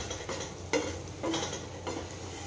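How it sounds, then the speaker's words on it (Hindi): A spoon stirring masala as it dry roasts in a pan over low flame for a Goan chicken curry: a few soft scraping strokes with faint sizzling underneath, close and quiet, no voices. "मसाला ड्राई रोस्ट करते टाइम इसे हिलाते रहना"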